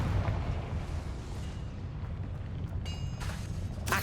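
A Confringo blasting curse detonates in Hogwarts Legacy, a deep rumbling boom rolling on for several seconds with a sharp bright crack near the end, heard alone with no talk.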